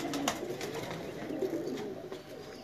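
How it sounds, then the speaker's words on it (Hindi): A Cheena pigeon in a Multan loft coos in soft, repeated throaty phrases, close and steady, over a low background hum. "ये है जी उस्ताद मियां नजीर साहब के पास से आया हुआ चीना कबूतर जनाब"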